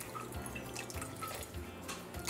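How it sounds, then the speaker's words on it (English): Water poured into a heavy-bottomed pan already holding sugar for a Trini nut cake or peanut brittle, heard as light splashing and dripping trickles at close range, with no voices. "To this I'm going to go in with my water"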